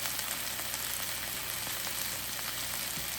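Thick-cut onion and capsicum sizzling in a hot pan for restaurant-style dry chilli chicken, an even, dense frying hiss with faint stirring scrapes, close and steady, no talking.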